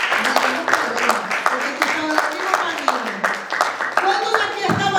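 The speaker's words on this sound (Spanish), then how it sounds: "Puede dar un aplauso al Señor." A church congregation claps in a steady burst of applause for several seconds, with voices and cheers mixed in throughout.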